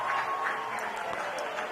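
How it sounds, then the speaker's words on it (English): American Fork fans at a 6A high school baseball consolation semifinal clap from the stands, a moderate, fairly distant patter of applause mixed with crowd murmur. "As the American Fork fans applaud."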